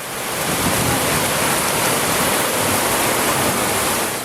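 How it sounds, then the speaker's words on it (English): Tropical Storm Irene brings strong wind and heavy rain, heard as a loud, steady, dense roar of hiss that continues without a break. "the winds are really kicking up now"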